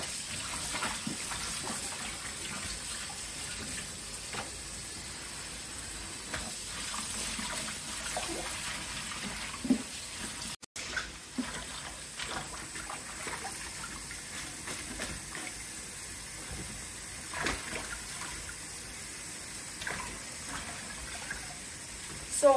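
Kale leaves from a home garden harvest swished by hand in water to wash them, a steady close splashing and sloshing that runs continuously with small plops, with no talk.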